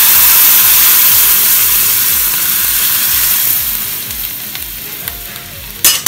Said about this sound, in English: So now we will put our dal inside.